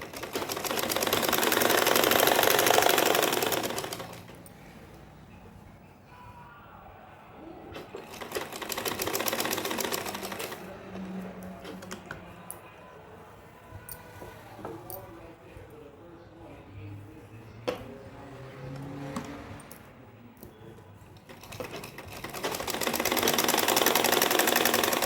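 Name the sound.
sewing machine stitching around neckline with buckram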